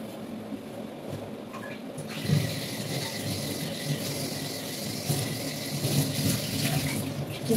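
Tap water runs steadily into a kitchen sink during dishwashing, a close continuous splash with occasional clinks of utensils and dishes knocking against each other.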